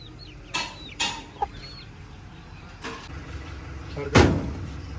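A few short clucks from a hen at close range, with scattered knocks and a louder clatter near the end over a steady background.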